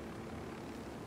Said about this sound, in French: Oh la vache, il y a un avion!